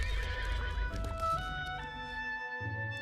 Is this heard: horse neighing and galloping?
yes